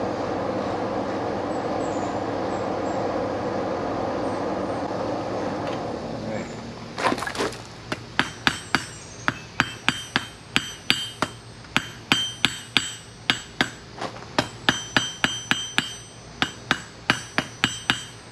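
A blacksmith at Corgi Forge hammers while forging an S hook: after several seconds of steady roaring background noise, close, sharp metallic strikes begin and repeat in a quick, fairly regular rhythm, with no talking.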